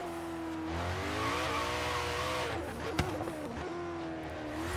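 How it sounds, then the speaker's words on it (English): A Koenigsegg in Forza Horizon 3 driving hard with front tires spinning, steady loud engine drone with rising and falling pitch and a faint squeal layered over it, one sharp tick near the end, no voices. "Those front tires are probably just lighting up right now."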